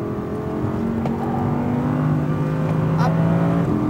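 An Audi R8 V10 RWD pulls hard on a race track, its engine note a loud, steady drone that rises as it gains speed, with a driving instructor talking over it.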